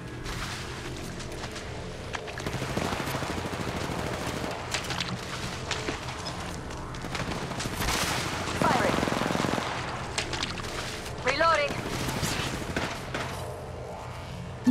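Sustained automatic gunfire from an Apex Legends Mobile ranked match, dense rapid bursts running nearly the whole time with louder volleys near the middle and end, while a voice speaks over the shooting.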